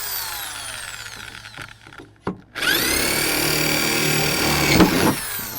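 Power drill boring out a hole in metal conduit to widen it for a self-tapping screw on a hoop house frame, a steady loud whine running for several seconds after a short start and pause, close by with no talking.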